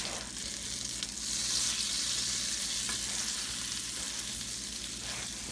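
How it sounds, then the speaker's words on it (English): A utensil scrapes the bottom of a hot steak pan under a dense, steady sizzle of seasoning and meat juices, close and continuous, with no voices. "I'm going to scratch the bottom of the pan to get all that delicious seasoning and steak juice off the ground"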